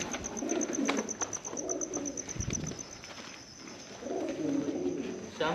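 Pigeons coo repeatedly inside a cave at Golconda fort, the low throaty calls rising and falling in overlapping bursts with echo, a brief flutter of wings midway.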